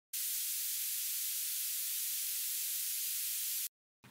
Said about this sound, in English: Then we have some more white noise.